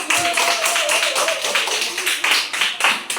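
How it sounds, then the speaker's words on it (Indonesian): A classroom of students claps hands together in a lesson, with rhythmic, fairly close bursts of clapping repeating evenly throughout and faint voices mixed in. "tepuk tangan untuk semua"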